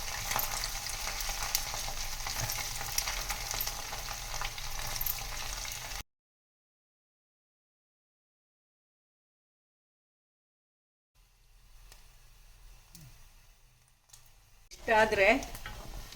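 Silverfish fry in a little oil with a loud, dense crackle for about six seconds, then cut to silence before a fainter sizzle returns along with a short burst of voice.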